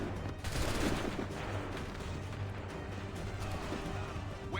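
Musket volley gunfire in Assassin's Creed rolls on as a dense, sustained crackle of overlapping shots, loud and steady for the whole stretch, with a faint voice slipping in briefly.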